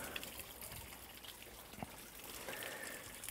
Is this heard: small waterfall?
yes